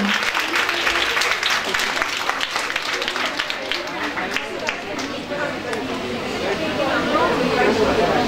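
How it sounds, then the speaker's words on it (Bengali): Applause from the audience at a PG prize distribution ceremony as a first-place zoology winner is called: sustained, dense clapping fills the room at a steady loud level from start to finish, with a faint murmur of voices mixed in. "জোরে হাততালি দাও সবাই"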